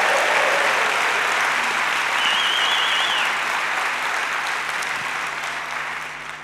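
A forum audience in a large hall claps and cheers steadily, a loud sustained wash of applause that gradually fades toward the end, with no speech over it.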